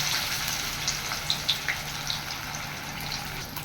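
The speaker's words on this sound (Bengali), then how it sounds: "মাছটা ভাজা হতে হতে" Pieces of rohu fish sizzle in hot oil with a loud, steady, crackling hiss and a few brief pops on top.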